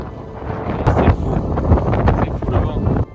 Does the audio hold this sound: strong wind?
yes